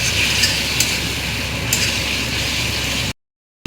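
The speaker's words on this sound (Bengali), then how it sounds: "ভালো করে একটু নেড়ে নিলাম।" Ginger-garlic paste is stirred in a hot pan for chilli chicken, producing a loud close sizzle with a few scraping clicks, then cutting off abruptly into silence.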